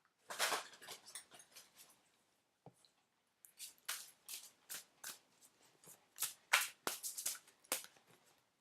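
Tarot cards being shuffled in a series of quick, crisp riffling bursts with short pauses between, close and fairly quiet.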